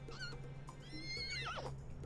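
A horse in a life-simulation video game whinnies, a faint synthetic neigh with a rising then wavering falling call, preceded by a short snort, quiet and alone.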